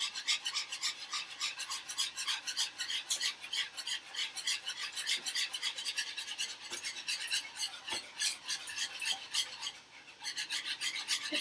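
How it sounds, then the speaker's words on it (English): Rapid rhythmic scraping of a whisk beaten furiously through a lumpy mixture in a pot or bowl during Thanksgiving cooking, a fast steady rasping that briefly pauses near the end, with no talking. "that's why I'm supposed to be whisking furiously"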